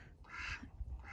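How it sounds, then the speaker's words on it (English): A broody mother duck on a homestead gives a short burst of quacking from a little way off, set against low rumbling background noise outdoors. "There's our mama duck over there in the corner."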